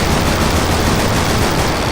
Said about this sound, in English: listen to the rate of fire from the gun because of the synchronizer